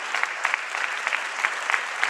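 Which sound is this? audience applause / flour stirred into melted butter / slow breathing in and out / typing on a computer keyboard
audience applause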